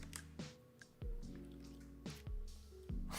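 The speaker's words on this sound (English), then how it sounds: "So we're gonna put some of these oils in those cups." Oil poured into cups of water, a series of close, quiet liquid plops and gurgling drips landing one after another in an uneven rhythm, with no talk.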